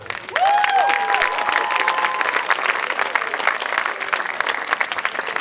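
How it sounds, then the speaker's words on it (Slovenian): An audience applauds for a music group's professor and mentor, with sustained dense clapping from a crowd and a few faint whistles and cheers mixed in near the start. "Aplavz, prosim."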